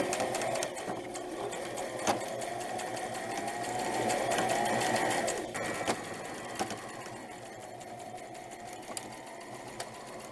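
A sewing machine stitches the side seam of an eyelet blouse with satin trim, running up through the sleeve bottom: a steady, close, continuous whir for the whole stretch, swelling briefly midway, with a few small clicks and no talk.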